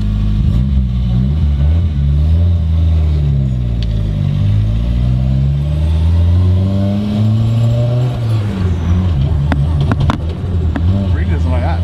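A Nissan S14 with a freshly rebuilt engine revs on a test drive, its loud mid-pitched engine note climbing and falling in pitch across the clip, with occupants talking over it.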